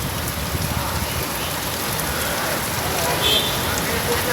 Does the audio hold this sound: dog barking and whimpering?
no